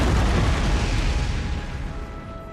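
A heavy booming cannon blast from an Empire: Total War fort battle, a single broad explosion that rolls on and slowly fades, loud and with no talk over it.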